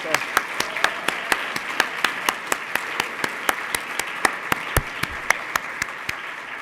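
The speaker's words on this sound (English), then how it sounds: "So please let's give her a round of applause." An audience at an awards evening applauds Edna Patterson on her birthday with a sustained, even run of nearby hand claps that keeps a steady pulse from start to finish.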